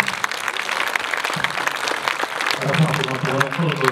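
Audience applause at a closed film screening fills the room with dense, sustained clapping from a crowd, and voices rise beneath it toward the end.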